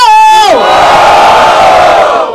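A crowd at a rap battle in Barueri roars with cheering and shouting, loud and continuous, following a brief sustained voice at the start.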